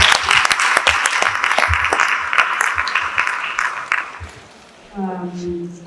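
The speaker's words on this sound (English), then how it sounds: "a better round of applause" Loud round of applause from an audience at a languages conference, dense clapping for about four seconds before it fades into a brief murmur and a voice.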